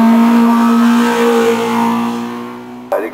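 A Renault Clio race car climbs the Mont-Dore hill climb course, its engine holding a loud, steady high-revving note that fades slightly as it passes, ending with a sharp burst near the close.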